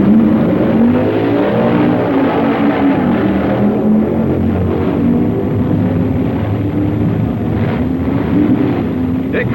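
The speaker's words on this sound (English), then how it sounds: "Koppel beats Bill Flynn in a tight race" 1965 drag racing cars roaring down the strip, a continuous loud, rumbling engine drone with shifting pitch and some wind buffeting, heard from a distance on an old recording.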